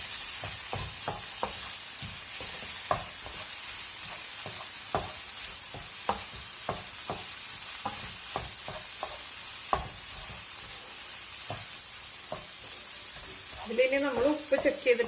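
Scrambled egg mixed with sautéed onions is stirred in a sizzling pan, a steady frying hiss under irregular scraping taps of the spoon, close and moderately loud, with a brief voice near the end.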